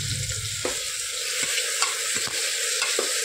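Chicken curry sizzles in a pressure cooker while being stirred, with regular scraping strokes of a spoon against the metal over a continuous frying hiss, close up and with no speech.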